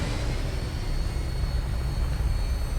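Aircraft engine roar during takeoff in the video game Fallout 4, a steady, loud, dense rumble with strong low-end power that holds constant throughout, with no speech over it.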